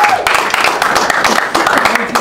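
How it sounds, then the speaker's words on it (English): An audience claps to welcome a storyteller, the owner of a record store, to the stage at a storytelling event; distinct loud claps ring out close by while voices talk over them. "Give him a big round of applause"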